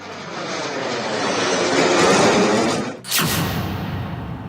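Rafale, Mirage and Jaguar fighter jets roar low over a 3.5 km expressway airstrip during an air show, a loud sustained broadband rumble that swells, briefly dips, then surges again as another jet passes close.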